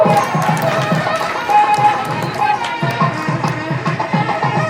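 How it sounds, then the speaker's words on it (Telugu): Steady applause from an audience at a rangoli competition prize-giving, dense rhythmic clapping that carries on throughout with a murmur of voices beneath it. "ఒక్కసారి గట్టిగా చప్పట్లు"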